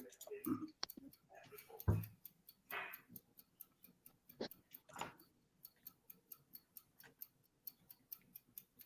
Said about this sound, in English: Sound like a time clock. That's my timer.